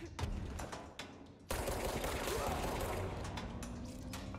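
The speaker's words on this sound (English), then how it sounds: "He kind of exploded" An enemy blows up in the video game Control: a sudden loud, broad explosive burst after a quieter stretch of clattering action, followed by a sustained rumbling, crackling wash that slowly eases off.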